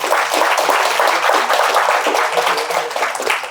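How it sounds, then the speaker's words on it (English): Applause at a Data Structures and Algorithms workshop at RVIT, a steady, fairly loud wash of clapping from a room of attendees that carries on evenly for a few seconds. "Can you give a big round of applause?"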